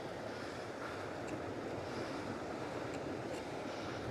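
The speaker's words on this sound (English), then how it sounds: "there's some lovely splashing going on here on the left." Steady wash of water surging and splashing against rocks, a continuous broadband roar with wind noise, no voices.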